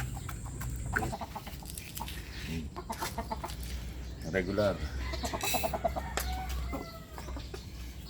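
Chickens cluck and a rooster crows nearby amid farmyard bustle, with a person speaking briefly over the birds.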